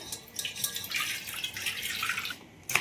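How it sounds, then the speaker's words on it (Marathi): Freshly picked coriander leaves are rinsed with water in a home kitchen while preparing chicken. Steady running, splashing water continues for about three seconds with a louder splash at the end, and no one speaks. "संबार मस्त धुवून घेऊ पाण्यानं।"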